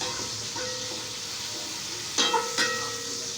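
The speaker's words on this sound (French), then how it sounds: "On va verser d'abord nos oignons finement découpés." Finely chopped onions frying in hot oil in a pan, a steady close sizzle with a few brief louder crackles and stirring scrapes.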